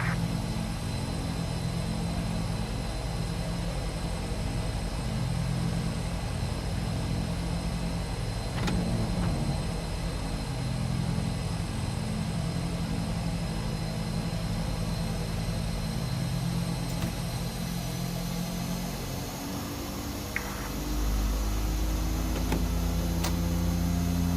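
Engines of a DHC-6 Twin Otter in Microsoft Flight Simulator give a steady, continuous propeller drone with a constant hum throughout, moderately loud and alone, with no talking.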